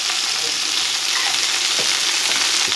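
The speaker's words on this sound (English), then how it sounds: "Now I'm going to just add some of my ground green seasonings" Ground green seasonings, clove and allspice sizzle hard in a hot pot with meat for a pigeon peas soup, a loud, steady frying hiss with faint stirring scrapes and no speech.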